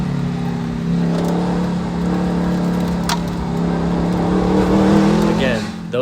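Factory Five 818 sports car pushed hard through an autocross cone course, its engine droning steadily up close with rising revs toward the end.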